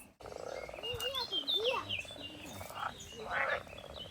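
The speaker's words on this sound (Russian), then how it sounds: "Жабы квакают." Frogs croak loudly and continuously in a botanical garden on Ischia, Italy, a busy overlapping chorus of warbling, bubbling calls lasting several seconds with no voices.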